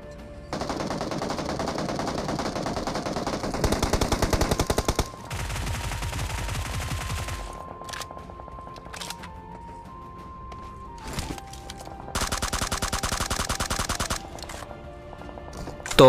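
Gunfire from a fight in a battle royale video game, with several sustained bursts of automatic fire at moderate distance, separated by quieter gaps and a lingering tone, and no talking.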